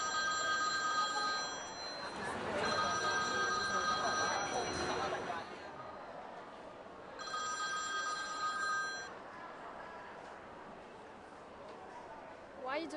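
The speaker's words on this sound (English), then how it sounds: "Why you don't answer your phone?" A telephone bell rings in repeated bursts, three separate trills spread over several seconds above a steady indoor background hum.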